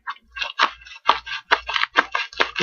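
Scissors cutting open a mailed package wrapped in bubble wrap and lots of tape, heard up close as a quick run of crisp snips and crunches of plastic and paper, with no voices.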